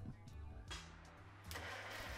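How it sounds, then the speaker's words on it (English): A tractor engine is started to run the loader hydraulics, cranking and catching in two bursts that settle into a low, steady running hum, faint and somewhat distant with no talk. "I fired up the engine so that I could run the hydraulics."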